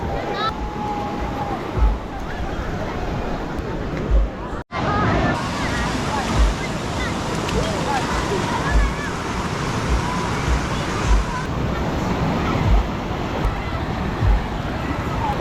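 Big ocean waves crash and wash continuously onto a beach in Quezon, a loud, broad surf roar buffeted by wind on the microphone, with people talking faintly amid the noise.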